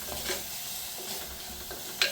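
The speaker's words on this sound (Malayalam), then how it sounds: "ഇളക്കി കൊടുക്കുക." Ingredients for a pumpkin tamarind curry spice paste sizzle steadily in a hot pan, with soft rhythmic scraping strokes of stirring and a brief metallic clink at the end.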